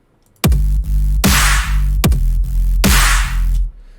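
A punchy drum pattern with booming kicks, deep sustained sub bass and loud, bright snare hits that dominate the mix, played alone.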